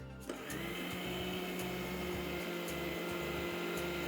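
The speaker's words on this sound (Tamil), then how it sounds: "மிக்சி ஜாருக்கு மாற்றின இந்த கம்பை நல்லா நைஸாக அரைச்சி எடுத்துக்கோங்க நான் அரைச்சிட்டு காட்டுறேன்" A kitchen mixer grinder spins at full speed, grinding roasted pearl millet into fine flour in its jar, producing a steady, high-pitched whirring drone with a faint rattling texture, close and continuous with no talking.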